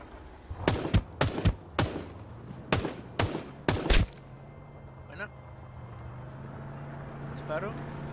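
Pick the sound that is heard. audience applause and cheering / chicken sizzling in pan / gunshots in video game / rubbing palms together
gunshots in video game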